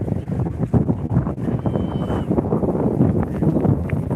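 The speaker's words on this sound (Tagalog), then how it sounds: "Lakas ng hangin sound." Strong wind on a pier at the Legazpi embarcadero buffets the microphone with gusty, uneven low rumbling that fluctuates in loudness throughout.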